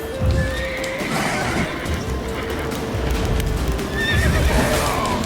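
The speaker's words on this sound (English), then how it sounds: "I was trying to get onto the horse." A horse neighs and whinnies while hooves clatter in The Witcher 3: Wild Hunt, close and loud, with a second whinny near the end over a continuous game soundscape.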